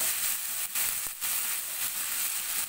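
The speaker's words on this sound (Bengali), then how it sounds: "শোল মাছটা লবণ হলুদ মেখে ভেজে নেব, আর ভাজাভাজি এখন করছি" Snakehead fish coated with salt and turmeric fries in a pan, giving a loud, continuous sizzle with small crackles and no voices.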